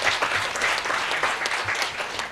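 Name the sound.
audience applause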